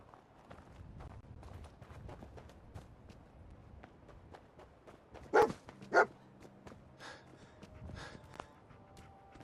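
Dogmeat, a dog in the video game Fallout 4, gives two sharp, loud barks in quick succession over soft footsteps and quiet in-game ambience.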